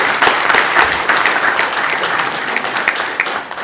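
Wedding guests applaud a newly married couple at a Rwandan wedding ceremony, a dense, steady wash of many hands clapping close by, sustained without a break for several seconds before easing slightly at the end.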